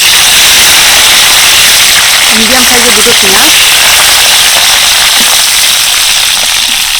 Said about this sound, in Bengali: কড়াইতে দিয়ে দিচ্ছি কিছুটা তেল তেলের মধ্যে দিয়ে দিচ্ছি দুটো শুকনো লঙ্কা গোটা গরম মশলা কিছুটা